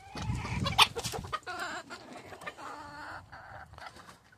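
Chickens cluck and squawk in a pen, with busy overlapping calls at moderate distance and a sharp squawk early on, over some rustling and scuffling.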